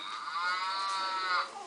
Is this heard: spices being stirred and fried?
no